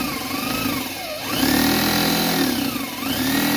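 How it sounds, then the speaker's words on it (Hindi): A power drill bores holes into a wooden bird nest box. The motor whines loud and close, keeps a sustained drone, and dips and rises in pitch as it bites into the wood. "ये देखिए सुराख कैसे किया जाता है, ड्रिल के साथ।"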